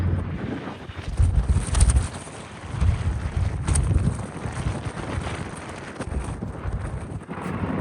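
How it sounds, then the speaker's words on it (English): Gusty wind buffets the microphone outdoors in Boston's West End, rumbling in uneven bursts that rise and fall throughout. "it's so windy out here today."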